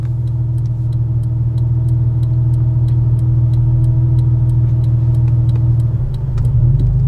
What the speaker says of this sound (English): A little bit of a stutter and a kick there as we pulled off.